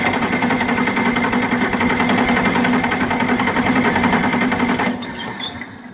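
A John Deere 4010 tractor engine, suspected of a faulty governor in the injection pump, runs steadily and loudly with a fast, even mechanical chatter, then drops in level toward the end as the revs fall away.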